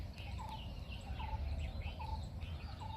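A parrot repeats a short chirping call about four times at a steady pace, faint and mid-distance, over an outdoor morning background with insect buzz and low rumble.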